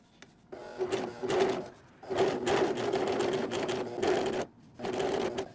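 A serger whirs in steady bursts, stopping and restarting several times, close and fairly loud with a buzzing mechanical hum.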